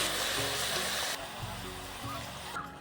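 Malabar spinach stalks drop into a pan of frying vegetables, bringing a loud hiss of sizzling oil that eases slightly partway through and continues steadily.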